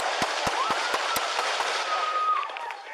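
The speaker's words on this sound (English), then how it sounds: "The officers returned fire, and Terry was hit." Gunshots ring out in an exchange of fire between a suspect and police officers, a rapid series of about eight sharp cracks over a loud, noisy background, followed by a faint whistling tone.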